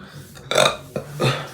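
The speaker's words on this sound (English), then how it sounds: "why am I always burping?" Two short, loud burps in quick succession, close to the microphone, with no talking.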